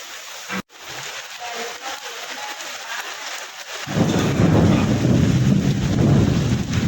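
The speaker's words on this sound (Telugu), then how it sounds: "శ్రీకాకుళం ఉమ్మడి జిల్లా వ్యాప్తంగా భారీ వర్షాలు కురుస్తున్నాయి" Steady heavy rain with thunder, a low rumbling roar that swells louder partway through, after a brief sharp crackle early on; no voices.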